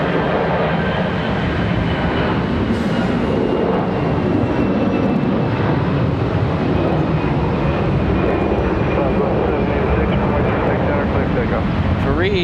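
An Airbus jet comes in to land on runway 36 left at Charlotte Douglas airport, a loud steady engine roar sustained close by throughout, with radio voices and talk heard over it.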